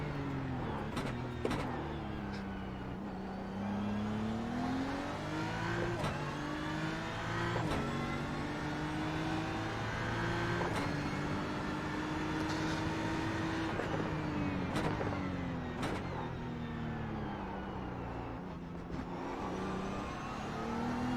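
A race car engine in the iRacing sim holds a steady high drone during a lap, its pitch dipping and climbing with gear shifts and throttle, loud and continuous with no talk.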